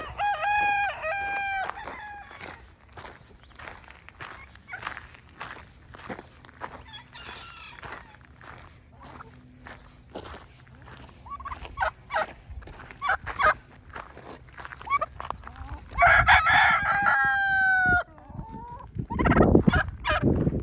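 Several roosters crow repeatedly at a reptile venue in Radical Reptile Fun, some near and loud, others farther off, over a steady rush of wind and scattered clucking.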